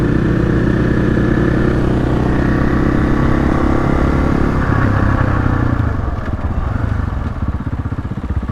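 Dirt bike engine roars loudly and steadily up close while riding on a trail, its pitch and load shifting slightly before easing off toward the end.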